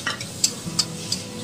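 Turmeric, garam masala and other ground spices fry in a pan for a homemade vegetable biryani, giving a soft, close sizzle broken by a few sharp scraping strokes of stirring.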